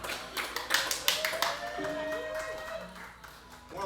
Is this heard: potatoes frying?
no